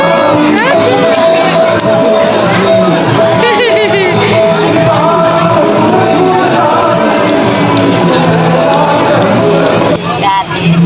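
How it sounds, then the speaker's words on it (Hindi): Dense, loud crowd hubbub at the Janaki temple aarti, with overlapping voices, shouts and cheers swelling throughout, and a voice speaking over the din near the end. "बहुत भीड़ है"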